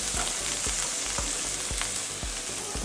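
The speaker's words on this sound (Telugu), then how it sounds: "బాగా ఫ్రై చేసుకోవాలి" Vegetables fry in a pan with a dense, continuous sizzle, close and fairly loud, broken by regular soft scraping strokes as they are stirred.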